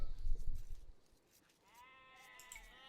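Sheep bleat in Age of Empires II: one drawn-out bleat is heard fairly clearly near the end, following a brief burst of soft low game noise at the start.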